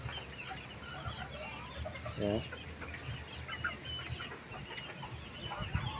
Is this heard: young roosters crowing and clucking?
yes